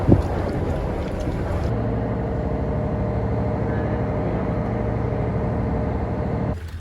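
A boat engine in Hakone, Japan, drones steadily at close range, a low continuous hum that holds evenly before cutting off near the end.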